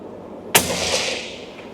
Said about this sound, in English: lighter weight hunting rifles like this are a little bit trickier to shoot